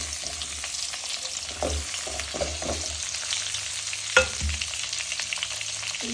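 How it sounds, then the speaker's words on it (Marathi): Whole brinjals frying in hot oil with garlic, cumin and mustard seeds, a steady close sizzle broken by stirring scrapes and a sharp clink of a utensil against the pan. "आता आपण एक एक वांग तेलात टाकू आणि तेलामध्ये छान परतून घेऊ वांगे"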